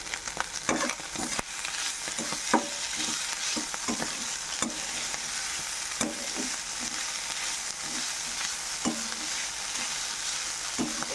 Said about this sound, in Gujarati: હવે આપણે વઘાર મૂક્યો છે, એમાં મરી લઈશું અને લવિંગ છે અને તેજપાન છે